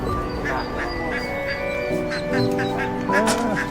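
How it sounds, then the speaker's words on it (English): Ducklings and a mother duck quacking together, a busy mix of high peeps and louder quacks running through the whole short stretch with background noise, and a few brief human voices briefly mixed in. "The police officers saved these ducklings that fell into the drain and returned these babies to their mother."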